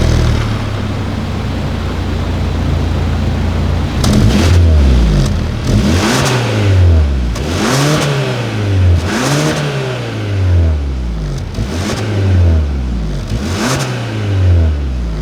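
A 2021 Hyundai Sonata N Line sedan engine revs hard through repeated gear shifts, each pull climbing in pitch before dropping, loud and close from inside the cabin.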